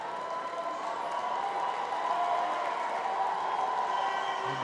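A large crowd at a football final between Nigeria and Jamaica in the GTEC Community Stadium claps and cheers in a steady, dense wash of applause that holds evenly throughout.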